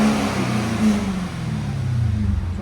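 A Cadillac CTS-V with a 6.2L V8 and stock exhaust revs nearby, its deep engine note rising and falling in a couple of throttle blips over a steady idle rumble.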